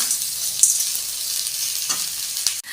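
Onions and tomatoes sautéing in a pan for a small-leaf greens thokku, a steady close sizzle with a few soft stirring scrapes and no talk.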